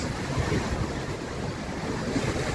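Ocean waves wash and splash at a beach, a continuous rushing surf close to the microphone with wind noise mixed in and no voices.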